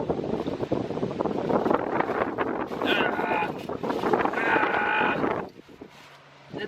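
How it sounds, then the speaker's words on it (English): Strong wind buffets the microphone outdoors during a thunderstorm, a loud continuous roar with gusts, heard alongside a person talking before it drops off abruptly near the end. "It's so windy."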